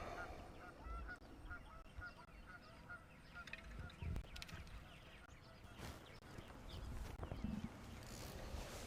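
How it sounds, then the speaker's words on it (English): Geese honk at Lake Eufaula during a fishing tournament, scattered calls fairly faint and distant over outdoor ambience, wind and occasional knocks. "hear the geese, man."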